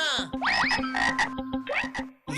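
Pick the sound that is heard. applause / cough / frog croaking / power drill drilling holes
frog croaking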